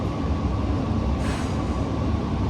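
An airport train pulls away, a loud, continuous rolling rumble with a brief higher hiss partway through, heard up close from inside.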